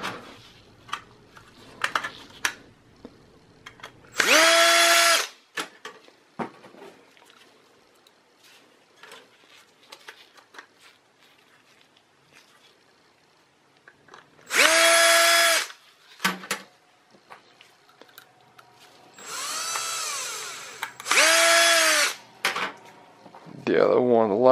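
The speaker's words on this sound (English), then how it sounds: "So what I'll do is I'll install the screws for the solid state drive." Short whirring bursts from a power drill installing screws for a solid state drive in a Dell Precision T1650 desktop, three brief runs spaced apart, with a person talking between them.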